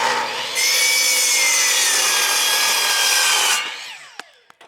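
Sharp saw blade cutting through wood pieces to make stoppers for a chicken brooder build, a loud steady rasping stroke lasting about three seconds, then fading, with a couple of light clicks and taps at the end.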